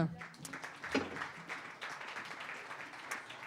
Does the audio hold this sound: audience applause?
yes